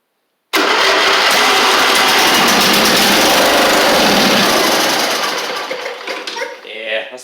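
Huskee Supreme 50-inch riding mower with a Briggs V-twin engine and suspected clogged carburetor jets cranks loudly and continuously without firing, a harsh starter grind that slowly fades before cutting off.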